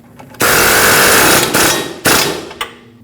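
An impact or power tool tightening the mounting nut on a Nissan Frontier lower control arm, a loud close buzzing whir lasting about a second, then two shorter bursts.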